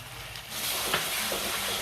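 Whisked yogurt hits hot oil and fried masala for a Bengali fish curry, raising a steady broadband sizzle that swells after a brief quieter start and holds loud and close, with faint stirring.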